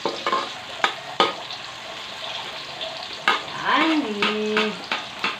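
Onion and garlic frying in a pan for pancit bihon, a steady close sizzle broken by sharp scraping stirs and clanks, with a brief squeaky tone near the end.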